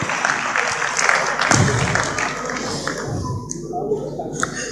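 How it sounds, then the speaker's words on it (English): Audience applause for award winners and their families at a company formation-day gathering, a loud sustained round of clapping from a large crowd indoors, continuing steadily throughout. "let's give a big round of applause to all the award winners and their families"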